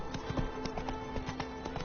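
Horse hooves in the Witcher 3 video game beat out a quick, regular clip-clop, moderately close and steady throughout the short stretch with no voices.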